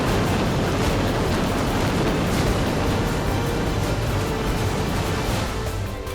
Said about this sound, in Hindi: तभी दूर एक धमाका सुनाई दिया